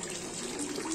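Water flowing steadily from a fountain at an inn, a brief close rushing splash with no voices.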